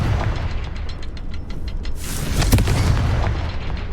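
A Confringo fire-blast spell in the Hogwarts Legacy video game, a loud burst that explodes partway through over a rumbling game soundscape.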